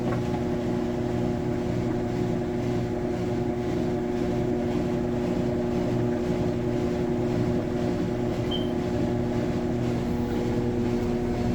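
A balancing machine spins steadily with a constant smooth mechanical hum and drone, unchanging in loudness throughout, with no speech.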